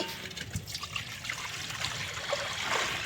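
Water trickles and splashes as it is poured into a pot set on a wood fire for boiling corn, a soft, close, uneven pour with no voices.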